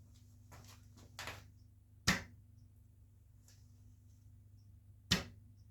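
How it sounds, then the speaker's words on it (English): Two sharp, loud twangs from dry firing a short horse bow, about three seconds apart, each snapping out and fading fast over a quiet background with faint handling noises. "I'm going to dry fire it a little bit."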